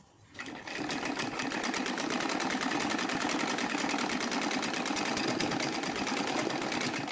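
A sewing machine stitches a loose seam on a heavy silk kurti made from an old saree, starting up after a brief quiet moment and then running in a steady, fast, close rhythmic whir for several seconds with no talking.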